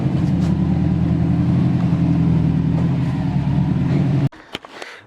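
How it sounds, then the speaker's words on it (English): A Subaru WRX engine rumbles loudly up close through a leaking XForce exhaust, giving a rough, throbbing drone that stops abruptly near the end, leaving a few faint knocks. "we just got an exhaust leak"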